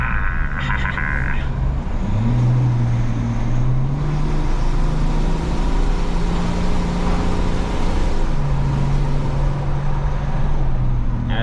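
A GMC pickup with the 3.0L Duramax diesel engine pulling a trailer on the road, a loud steady low drone that rises and falls slightly in pitch, with road and wind noise through open windows.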